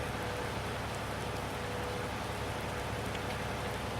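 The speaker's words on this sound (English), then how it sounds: "it's a dicey drive in the rain, folks" Steady, dense rain falls in Farming Simulator 19 during a drive through a small town, a constant hiss of drops covering the whole moment without break.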